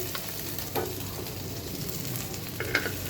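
Fish pieces and onions frying in hot oil, a soft continuous sizzle with a few faint clinks and stirring touches, heard quietly and alone.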